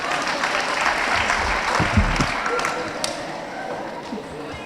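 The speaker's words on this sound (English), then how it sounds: "Clap for me" Applause from a lecture audience fills the room, a dense continuous patter of many hands clapping at close range, holding steady throughout and tapering slightly toward the end.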